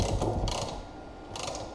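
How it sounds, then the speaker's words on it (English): A bearing press tool tightened by ratchet to pull in and seat an outer wheel bearing race on a 260Z rear hub, giving short close mechanical clicking bursts with a pause between them. "I just tighten it down and it works like a press, and just pulls the bearing in"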